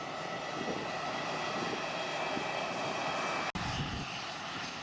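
An Airbus A320 airliner, arrived from Asunción, roars at Santiago airport with a steady, broad engine rumble and whine that continues throughout, heard from a moderate distance.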